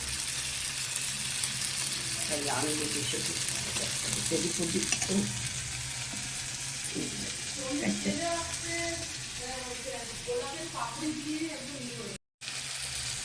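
Papaya curry (papaya ghonto) with a little water being stirred and sautéed in a pan, a steady sizzle with scraping and clinking utensil strokes throughout, close and continuous.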